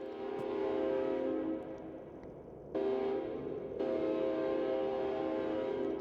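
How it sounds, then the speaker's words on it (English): Train horn in a video game, a sustained tonal blast that dips, then sounds twice more in long steady bursts over a low rumble of a passing train, with no talking. "I guess that was a train."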